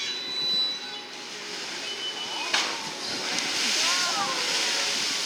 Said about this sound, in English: a jump like that is called a breach. It's where a whale slaps their body on top of the water